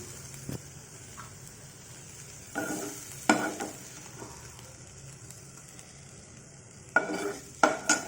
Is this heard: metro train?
no